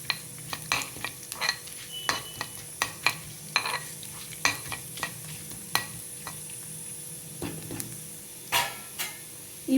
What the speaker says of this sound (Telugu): పోపుని ఒకసారి కలుపుకుందాం.